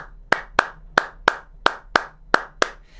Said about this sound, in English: You're gonna have a clap that's gonna be like this